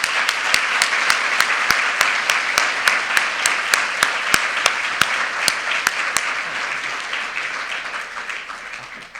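A conference audience gives the speakers a round of applause, a steady, moderately loud wash of clapping with a few sharp individual claps standing out, gradually fading toward the end.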